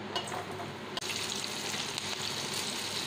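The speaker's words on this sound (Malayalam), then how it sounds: "നമുക്ക് ഇഞ്ചി, പച്ചമുളക്, കറിവേപ്പില ഇതെല്ലാം കൂടി ഒന്ന് വാട്ടാം." Ginger, green chillies and curry leaves sauté in hot oil in a pan for a Kerala fish pickle, a steady close sizzle and frying crackle throughout with a brief stir near the start.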